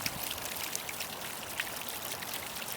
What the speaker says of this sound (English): The second one to the top, I like the way the water flows off there.